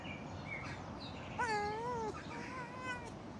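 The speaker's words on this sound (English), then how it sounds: "The kitty cat is still around." A cat in the game Pentiment gives one clear, drawn-out wavering meow over soft background ambience, then a fainter, shorter meow follows.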